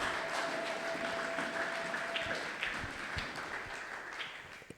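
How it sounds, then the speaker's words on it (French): A church congregation at a Sunday thanksgiving and praise service cheers and applauds for Jesus, with a steady wash of clapping and crowd noise that fades gradually. "Est-ce qu'on peut acclamer très fort pour Jésus? Acclame pour la gloire de Jésus."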